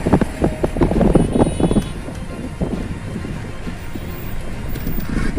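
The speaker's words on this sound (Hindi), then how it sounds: "ब्रिज के ऊपर तेज़ अच्छी हवा चल रही है।" Strong wind blowing across a bridge over a swollen river, a steady rumbling buffet of gusts against the microphone with low roaring texture, loudest early then settling into a constant blustery hiss.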